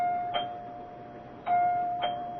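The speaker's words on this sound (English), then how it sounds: "Dr. Lem Regan rings the doorbell of Clyde Wilkins' house." A doorbell rings at a house in a CBS Radio Mystery Theater drama: a steady electric tone with three sharp strikes, heard alone in quiet.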